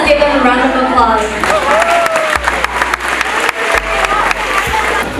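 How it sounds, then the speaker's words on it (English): A crowd of students and adults applauds in a school gathering, the clapping loud and continuous with some cheering, while a low hum and voices run underneath. "Let's give them a round of applause"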